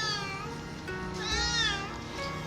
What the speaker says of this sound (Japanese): 猫が鳴いてる